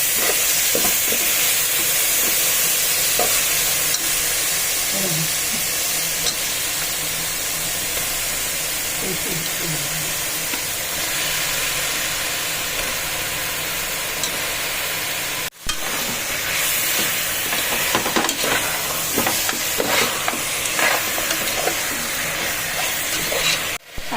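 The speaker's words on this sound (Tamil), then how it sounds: "உப்பு போட்டு நல்லா கலந்து விட்டுட்டு சிக்கனை இதுக்குள்ள சேர்த்துக்கலாம்" Chicken stirred and frying with salt in a pot for home-style biryani sizzles and hisses steadily up close, with occasional spoon scrapes throughout and a brief cut midway.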